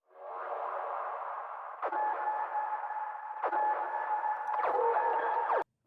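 Dubstep drop basses rendered and mixed into a soft atmospheric pad, a steady droning wash with faint tonal lines and a few swells, heard alone at moderate level before a sudden cut.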